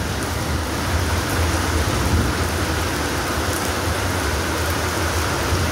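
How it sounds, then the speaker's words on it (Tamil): Heavy rain pounding on a tent with a rain cover at night, a loud, dense, continuous hiss of drops on fabric that stays even from start to finish. "வெளியே வந்து பார்த்திங்கன்னா மழை பயங்கரமாக பெஞ்சிட்ருக்கு."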